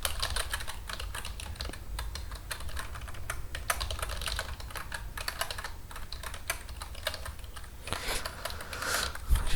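Code being typed on a computer keyboard, a fast, near and continuous patter of key clicks with occasional heavier strokes, no voice.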